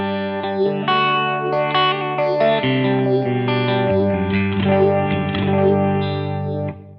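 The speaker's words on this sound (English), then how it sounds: "The sound just instantly goes to that other level because I've added 2 additional stages of phasing on top." An electric guitar runs through a 4-stage phaser pedal, its sustained, distorted chords and notes sweeping with a swirling, shifting phase effect. The playing is loud and continuous, with no talking.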